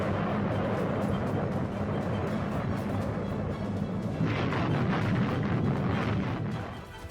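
Castle Romeo, an 11-megaton nuclear test at Bikini Atoll in 1954, heard in archival footage as a sustained, dense roaring rumble that holds steady for several seconds before easing off.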